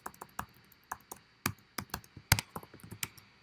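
Irregular keystrokes on a computer keyboard, close and clear, tapping out a short uneven burst of about twenty clicks with brief pauses between, no talking over them.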